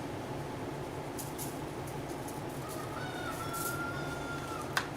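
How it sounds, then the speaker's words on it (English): A happy rooster crows outdoors in the background, a faint, drawn-out call rising over steady ambient noise for the last couple of seconds. "I don't know if y'all can hear my rooster, but boy, he's happy today."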